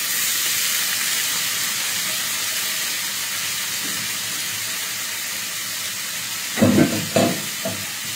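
Bitter gourd sizzles and hisses steadily as it fries with onion and green chili in a pan, with a few louder crackling, stirring bursts near the end.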